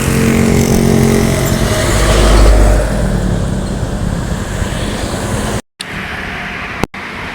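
An intercity bus from Jakarta roars past on a road in Indonesia, a loud, close, sustained engine and tyre rumble swelling and fading amid traffic, with no one talking.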